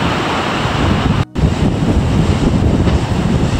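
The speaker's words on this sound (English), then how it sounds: "The water hit the cliff." Sea waves crash against the chalk cliffs at Old Harry Rocks on the Studland coast, a steady loud roar of surf mixed with gusty wind buffeting the microphone, broken by one brief dropout.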